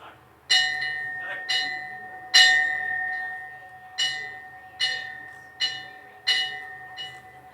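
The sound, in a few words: ceremonial bell ringing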